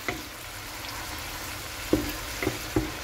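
Spice paste with bay leaves and galangal frying in oil gives off a steady low sizzle, while a few knocks from a spoon scraping the pan break through near the end, close and alone.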